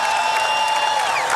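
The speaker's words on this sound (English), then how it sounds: "Let's give Jim Rutherford a round of applause." A dense parade crowd celebrating the Pittsburgh Penguins' Stanley Cup win applauds and cheers general manager Jim Rutherford, a loud, steady wash of clapping and crowd noise with no gaps.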